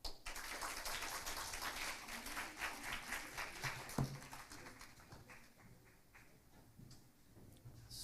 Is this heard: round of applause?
yes